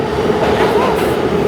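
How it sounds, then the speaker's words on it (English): A New York City subway train arriving at the platform, a loud continuous rumble of rolling wheels and rail clatter filling the station, with a faint squeal rising and fading over the noise. "Our train's coming soon. It'll be here very shortly."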